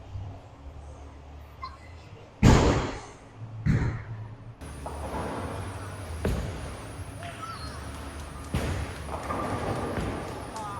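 A bowling ball with Optimum Idol Pearl coverstock on a fresh house shot: a heavy thud of release, then a long rolling rumble down the lane ending in a pin crash, with a quieter second throw and faint alley chatter.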